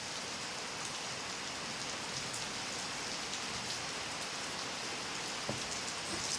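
Steady rain falls at night, a dense, even hiss of drops on surfaces that holds unbroken and fairly soft throughout, with no voices.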